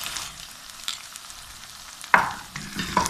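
Soft frying sizzle as green chili paste hits the pan for an aloo matar keema, with sharp spoon-on-pan scrapes and clinks from stirring, louder near the end.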